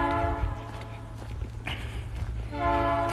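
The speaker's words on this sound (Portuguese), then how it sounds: "O trenzão passando" A big train passes nearby, with a steady low rumble of rolling cars and loud horn blasts at the start and again near the end, with no talk.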